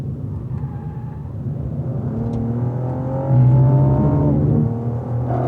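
A car runs on a track with a steady engine drone and rising and falling revs, the tone sweeping up then easing off as it slows for a downhill braking zone, loud and close, with no talking.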